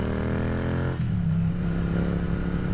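A carbureted motorcycle engine idles steadily and loudly up close, running on fresh gas, with a slight shift in its note about a second in.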